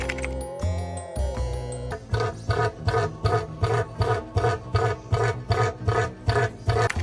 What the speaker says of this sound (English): Cassowary.